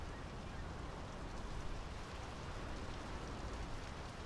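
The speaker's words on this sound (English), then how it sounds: "The rain's picking up." Steady rainfall in the video game Draugen, a dense even hiss of falling rain that is constant and enveloping, with no voices heard.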